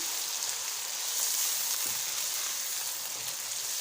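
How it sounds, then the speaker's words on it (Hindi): Ground garlic, ginger, cumin and dried coriander fry in a pan, giving a steady, soft, hissing sizzle throughout with no talking. "लहसुन, अदरक और सफ़ेद ज़ीरा, ये तमाम चीज़ें जो है, खुश्क धनिया, इनको मैंने ग्राइंड कर लिया है। ये सब इसमें जाएगा। थोड़ा सा इसको पकाएंगे।"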